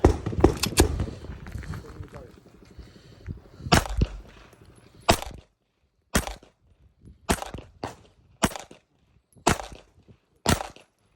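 A CZ P09 9mm pistol fires at a 7-yard range: a close, loud volley at the start, then six or seven sharp single shots spaced about a second apart, with low talk under the opening.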